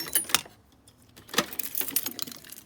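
A set of forklift keys jangling in a toolbox, several bright metallic clinking bursts close by, handled in short shakes, no talking.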